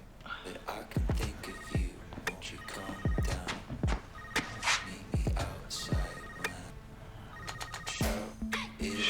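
A telephone rings several times in repeated bursts on a call, sounding fairly close amid whispered and spoken voices, with louder thumps and background clatter.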